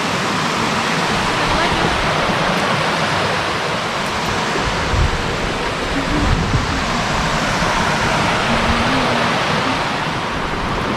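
Steady, loud broadband rush of water pouring over a small waterfall at Little Falls, constant and unbroken throughout with no talking.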